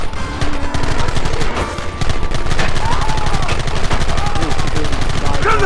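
Loud gunfire in the PC video game Red Dead Redemption: rapid, overlapping shots and volleys crack continuously throughout, with faint shouting mixed into the battle noise.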